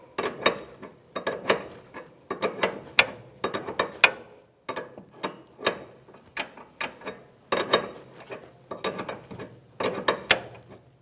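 Ratcheting wrench work on the inner tie rod nut of a 2013-2018 Toyota RAV4, a 22mm wrench: repeated bursts of clicking, rattling metal strokes in an irregular rhythm, close and moderately loud with no talk.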